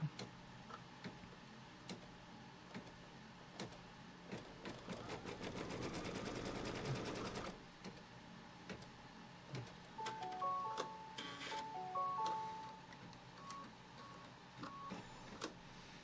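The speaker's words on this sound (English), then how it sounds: "So I'm going to tack down this piece of fabric." A Kimberbell quilting embroidery machine tacks down a piece of fabric in the hoop, giving a rapid, steady mechanical stitching chatter for several seconds, then quieter ticks and clicks, close and fairly soft with no voices.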